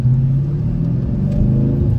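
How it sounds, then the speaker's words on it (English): A Dodge Challenger T/A with a 5.7 V8 Hemi pulls away slowly in first gear, its deep engine rumble steady and close with no one speaking. "Put the clutch in, let it out real slow,"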